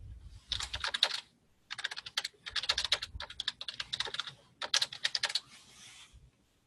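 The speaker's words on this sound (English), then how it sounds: "And I can type a message." Someone types a message on a computer keyboard in several quick bursts of close, crisp key clicks separated by short pauses, with no talking.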